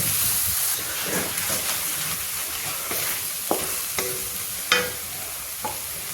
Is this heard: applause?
no